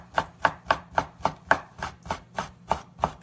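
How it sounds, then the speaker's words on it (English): A knife cubes thick-cut bacon on a cutting board in about twelve sharp, evenly spaced chops, close and clear with no voices. "we're just gonna thick cut bacon. Yeah, we're just gonna cube it."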